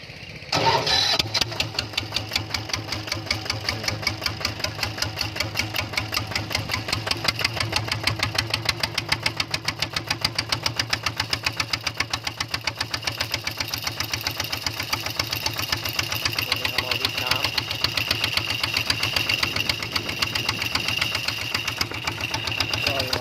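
A custom RT155-frame motorcycle with a Super KS setup and custom exhaust fires up on its key start, then settles into a loud, close, evenly pulsing idle that runs steadily with no pauses.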